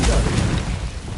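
A Confringo blast spell in Hogwarts Legacy gives a loud, close, booming burst that lands at once and then trails off in a rumbling decay.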